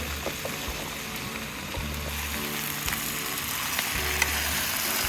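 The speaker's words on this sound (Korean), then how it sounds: "양파랑 양배추도 어느 정도 이제 투명하게 잘 볶아졌으면 이제 감자 넣을게요" Onion, cabbage and potato stir-frying in a pan for Korean jjajang sauce, giving a steady close sizzle with low rhythmic scraping and stirring pulses throughout, no talking.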